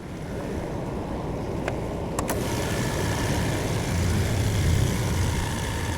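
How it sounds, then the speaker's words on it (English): A 2.3 litre car engine idles with the hood open, a smooth, quiet, steady low rumble with a faint hiss and a few brief clicks near the start, and no talk. "Not bad at all, pretty quiet running motor."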